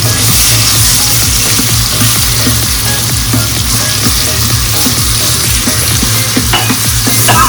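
Ground chili paste sautés in hot oil with asafoetida and turmeric for a Malvani prawn curry, a loud, continuous close-up sizzle with rhythmic scraping strokes of a spoon stirring the pan throughout.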